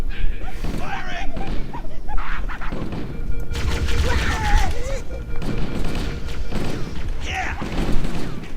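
Gunfire in the Halo CE video game, with dense bursts of bangs and impacts mixed with music and shouting voices, loud and continuous through the battle.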